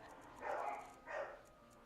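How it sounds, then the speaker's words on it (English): Two short, muffled dog barks from somewhere in the background of a room, faint and distant, spaced about half a second apart, with no one speaking over them. "It sounds like Soda's having difficulty with the dogs."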